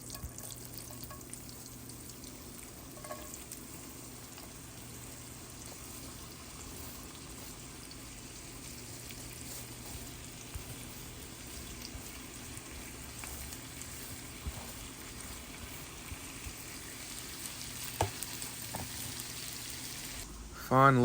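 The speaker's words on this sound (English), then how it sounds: "I'm going to throw the hash in and let it do its thing." Hash fries in butter and oil in a cast iron pan, a steady faint sizzle that continues throughout with occasional stirring scrapes and a brief louder clatter at the end.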